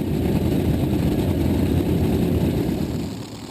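A pulling tractor's engine idles at the start line of a 4.5-ton class Eurocup tractor pulling event in Herning, Denmark, a loud, steady, deep rumble that eases off slightly at the end.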